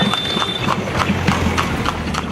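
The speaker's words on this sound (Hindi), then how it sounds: "बिहार में टमटम बनकर सड़कों पर जिंदा है।" Hooves of a horse pulling a tamtam cart clip-clop in a quick, even trot on a Bihar road, loud and close over constant street noise.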